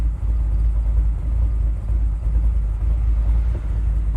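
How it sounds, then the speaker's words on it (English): A 1970 Chevrolet Nova with a 502 engine idles with a deep, steady rumble through a Flowmaster exhaust, low and throaty, continuous without any talking. "Nice Flowmaster exhaust on the car"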